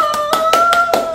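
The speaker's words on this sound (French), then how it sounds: "Donc voilà, on s'applaudit." A small group claps in a quick burst of distinct, evenly spaced hand claps, close and fairly loud over a steady tonal hum.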